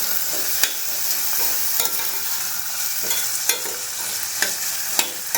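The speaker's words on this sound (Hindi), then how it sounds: "दाल को भी तेल और हल्दी वाला अच्छे से कर लूँगी" Dal sizzles and fries in hot oil with turmeric under a steady hiss, while a spoon stirs it with scattered light scrapes and taps against the pan. There is no speech.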